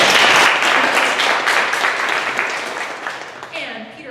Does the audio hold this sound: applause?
yes